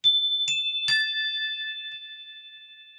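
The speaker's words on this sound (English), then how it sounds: "hit all 3 of my chimes at once" Three chimes are struck in quick succession, almost at once, each giving a bright metallic ping. Their pure tones ring on together and fade slowly in an otherwise silent room.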